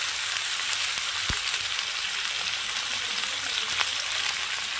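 Raw jackfruit with turmeric and salt frying in a pan, a steady, dense sizzle with even crackling throughout and a couple of sharp pops.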